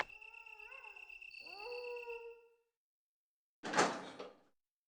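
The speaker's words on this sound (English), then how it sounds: "We gotta go through another door here after this." A door in the video game Resident Evil opens with a drawn-out, tonal creak that bends in pitch, followed after a short silence by a louder, noisy thud or slam.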